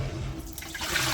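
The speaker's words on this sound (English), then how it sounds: "So we are pouring off that water that we soaked them in, and we are going to remove the lemon." Soaking water with lemon is poured off pigtail in a kitchen, a steady rushing pour that runs unbroken for about a second, loud and close, with no voices.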